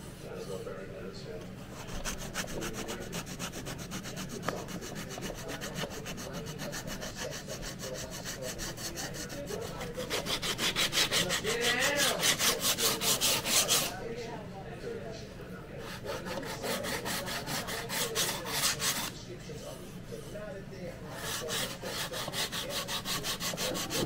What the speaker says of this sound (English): all this stuff, just sitting here sanding for some extra time.